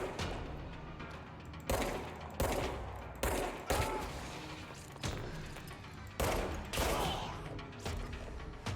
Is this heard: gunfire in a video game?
yes